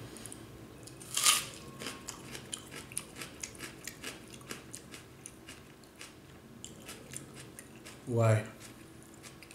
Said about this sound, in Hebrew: תראו כמה אכלתי בצל. בצל חי, אכלתי.